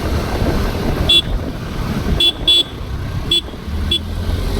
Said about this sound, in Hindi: थोड़ा हॉर्न देना चाहिए।